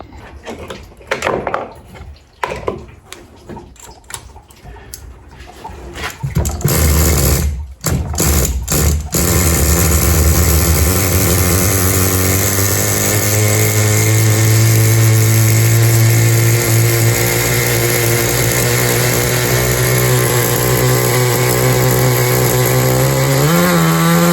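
A 30-year-old HPI RS4 nitro RC car engine sputters through a few starting attempts, then catches and runs at a loud, steady buzzing idle close by for the rest of the clip.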